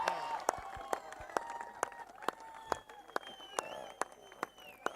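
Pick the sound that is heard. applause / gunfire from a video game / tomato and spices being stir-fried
applause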